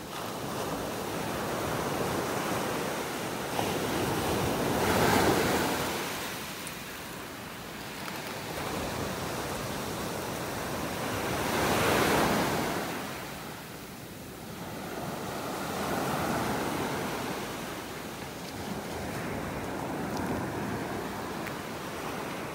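Ocean waves breaking on a North Naples, Florida beach, a steady wash of surf swelling into three broad crests and receding, with light wind noise and no voices.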